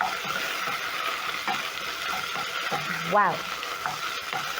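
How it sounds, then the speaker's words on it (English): Pork sears in a pot as it is stirred, with a steady close sizzle and scraping stirs running throughout and a short exclaimed word from a voice partway through. "let my pork cook until a little bit golden brown, or rather sear our pork."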